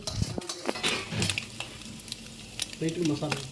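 An omelette fries in a pan, with crackling sizzle, scraping and clinks of a utensil against the pan in close, uneven bursts, and faint talk in the background.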